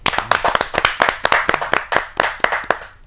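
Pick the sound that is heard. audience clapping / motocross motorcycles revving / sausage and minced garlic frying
audience clapping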